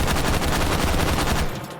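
Rapid burst of rifle fire from an H51 fitted with a muzzle brake and stock in the H3VR game, dense and loud for most of the stretch before cutting off into a short decay.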